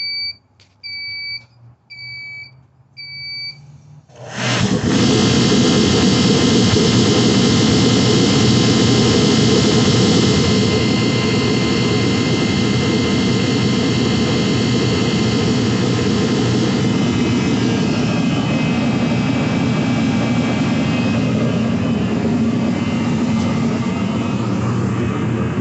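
Procom Magnum forced air heater burning diesel fuel: a few beeps at first, then the burner ignites into a loud, steady jet-like roar that keeps going without a break, no talking.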